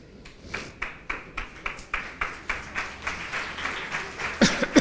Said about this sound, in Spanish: Si el aplauso es para mí no hay problema